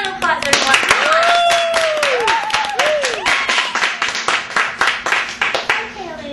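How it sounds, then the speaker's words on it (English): A television studio audience gives a round of clapping, close and lively, with individual hand claps standing out as the applause thins toward the end. Voices sound faintly beneath it. "Give her a round of applause, everyone."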